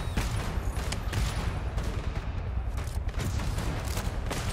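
Hel gun firing in the video game GTFO: a dense, continuous volley of loud, close shots crackles without pause, the rapid bursts overlapping into a steady barrage.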